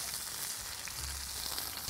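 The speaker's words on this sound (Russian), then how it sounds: "Мы наливаем масло на сковородку. Кладем немножко чеснока." Garlic fries in oil in a frying pan, a steady, close hiss of sizzling that runs evenly through the short moment, alone without speech.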